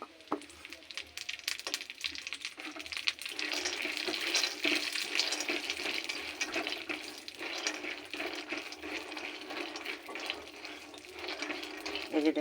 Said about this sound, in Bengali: এখন আমি এই যে হাফ বাটি আলমন্ডস নিয়েছি, এটা আমি ঘিয়ের মধ্যে ভাজা করে নেব।